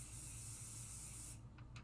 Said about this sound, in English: let's use some pixie spray